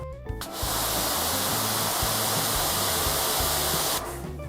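An MJJC Short Gun pressure washer spraying at a 40-degree fan on a car, a loud continuous hiss that cuts in sharply after a click and cuts off near the end.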